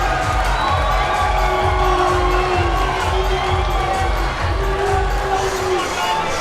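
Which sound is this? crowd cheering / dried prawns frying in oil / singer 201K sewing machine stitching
crowd cheering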